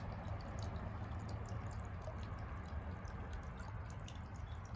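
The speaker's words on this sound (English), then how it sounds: "And I got a little fountain going." A small garden fountain in a cottage garden trickles water with a steady, close, even splashing hiss and faint drips throughout.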